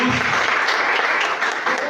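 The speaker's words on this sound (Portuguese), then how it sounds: "Dê uma salva de palmas ao Senhor Jesus." Church congregation applauding during a Portuguese-language sermon, steady broad hiss of many hands clapping throughout, loud and close, with a faint voice underneath.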